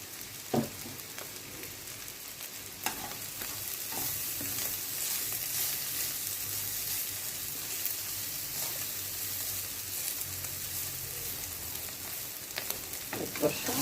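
Banana flower curry sizzling in a pan with shahi garam masala, a steady close frying hiss with occasional stirring clicks and no talk.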